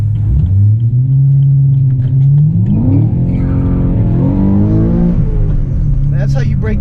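A BMW E92 M3 engine revs hard and loud and close, its deep rumble rising and falling through gear-like sweeps, with a few sharp exhaust crackles popping near the end.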